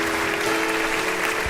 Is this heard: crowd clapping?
yes